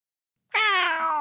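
A cat lets out a single clear, close meow that starts abruptly, rises and is held for nearly a second, alone with nothing else audible.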